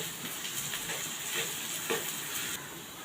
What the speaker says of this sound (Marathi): आता हे चांगलं ना परतून घेऊया कांदा थोडा मऊ होईपर्यंत